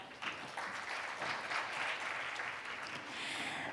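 Audience applause fills a Seoul Forum 2025 conference session on generative AI, a steady wash of clapping from a large crowd lasting the whole stretch without letup.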